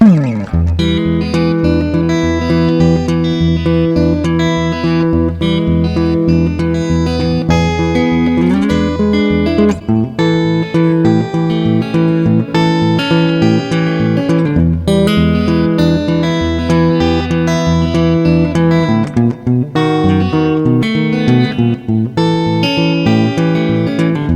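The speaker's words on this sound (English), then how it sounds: "Travis style country blues practice routine." Acoustic guitar plays a Travis-picked country blues practice routine in G with a rockabilly feel, steady alternating bass under bright melody notes, close and continuous with brief pauses between phrases.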